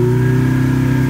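A car fitted with a Thor active exhaust sound system holds a long, loud, high rev. The engine note stays steady and buzzing, close up, with no voices over it.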